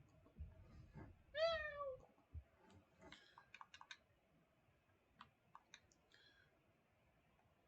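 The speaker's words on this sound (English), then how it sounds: "Sounds like a cat. Meow." A cat in Stardew Valley gives one clear rising-falling meow, followed by sparse game clicks and taps against a quiet background.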